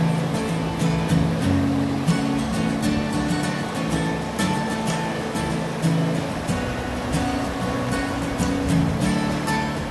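A clear mountain river in Taiwan's Maolin area rushes steadily along its bank, a constant broad wash of flowing water heard close and loud throughout, with no talk.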